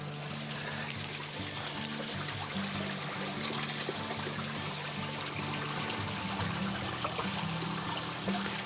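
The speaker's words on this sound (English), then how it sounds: "Here's the little waterfall that's trickling through." A small waterfall trickling under Pomona Natural Bridge, a steady, soft splash and babble of falling water that holds evenly throughout with no talk.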